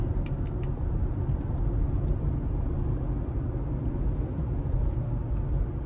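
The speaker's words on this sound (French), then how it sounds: "Alors on entend pas mal de bruit de vent quand même." Steady wind noise rushes inside a moving Hyundai Ioniq 5 over a low road rumble, continuous and fairly loud throughout.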